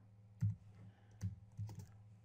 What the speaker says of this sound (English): I won't be typing much because I'm pecking right now.